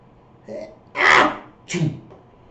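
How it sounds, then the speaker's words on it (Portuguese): Three short bursts: a faint puff, then a sharp, loud sneeze, then a second weaker sneeze-like burst, each brief and close with quiet between. "O espirro foi tão forte que desligou o telefone"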